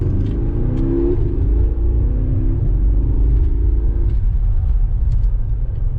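A Porsche Panamera with an 8-speed dual-clutch gearbox drives along, its engine a steady, close low rumble with a rising harmonic tone that eases off partway through, heard alone without voices.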